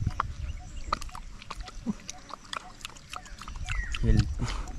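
A farm pig eats cabbage and papaya, with a steady run of wet chewing clicks and crunches up close and a low grunt near the end.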